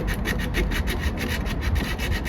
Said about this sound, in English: I'm just going to clean up the mating surface on this side, because it's a little bit rusty.